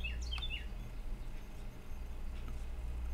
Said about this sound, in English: You can hear the birds, I think.